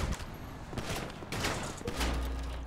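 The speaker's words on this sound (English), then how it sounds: "Shots fired, shots fired." Rapid gunshots ring out in the police patrol game GTA 5 with the LSPDFR mod, a dense, loud volley of cracks over rumbling background noise, with faint voices underneath.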